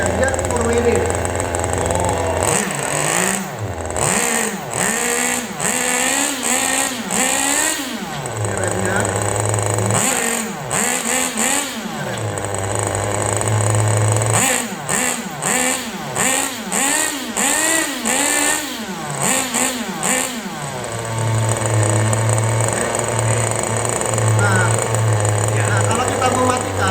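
A small RC car engine runs on a road, revving repeatedly in short throttle bursts that rise and fall over a steady loud idle, with someone speaking near the car.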